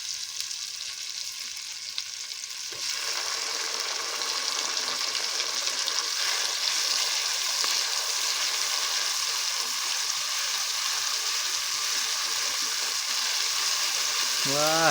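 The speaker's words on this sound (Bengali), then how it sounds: "আমরা এখানে কিছুক্ষণ টমেটোটাকে নাড়িয়ে টমেটো আর লঙ্কাটাকে একটু একটু ভেজে নিয়ে" Tomato and green chili fry in hot oil in a pan, a steady close sizzle broken by a stir scrape near the start; a voice begins right at the end.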